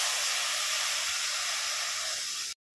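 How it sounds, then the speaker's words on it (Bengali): Water poured into a pan of lightly roasted semolina (suji) for luchi dough, giving a loud, steady steaming hiss and sizzle that runs about two and a half seconds and then stops abruptly. "এই কাপ মেপেই আমি 2 কাপ জল দেব।"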